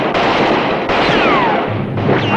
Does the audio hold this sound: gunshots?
yes